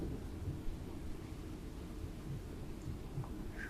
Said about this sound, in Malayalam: ഇവിടെയും മഴ പെയ്യുന്നു, അവിടെയും മഴ പെയ്യുന്നു. അതുള്ള ഗെയിമിനും മഴ പെയ്യുന്നു,